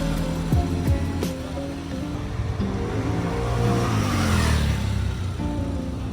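A Honda Beat scooter engine with a ported and polished head and an upgraded camshaft revs up and settles back repeatedly, fairly close and steady, with no one talking.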